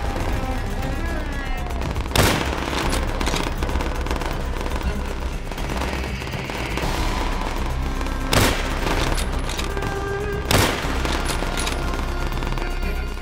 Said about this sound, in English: The machine gun right there.